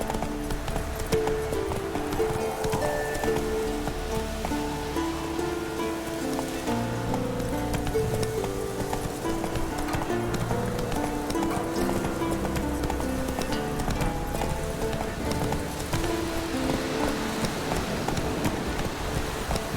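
Hooves of a horse clip-clopping at a quick gallop in The Witcher 3: Wild Hunt, a steady rhythmic beat over a layered game soundscape and music, with no talk.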